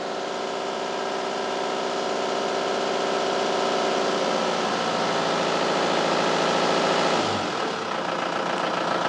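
A vehicle engine idles steadily while a lithium battery charges, a continuous mid-pitched drone with a faint knocking texture throughout, its character shifting about three-quarters of the way through before settling again.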